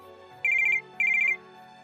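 A phone ringtone plays two short bursts of rapid, bright electronic trills with a brief gap between them, clear and close in an otherwise quiet room.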